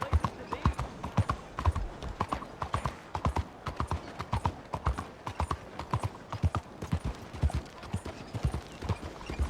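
Horse hooves in the Red Dead Redemption 2 game clip-clop in a steady, fast rhythm at close range, with a voice talking over the hoofbeats.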